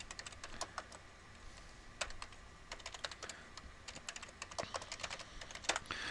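Quiet, rapid keystrokes clatter on a computer keyboard as a new password is typed, with irregular clusters of crisp clicks and short pauses, close to the microphone with no talk.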